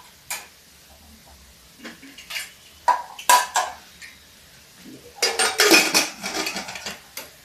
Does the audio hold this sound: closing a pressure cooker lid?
yes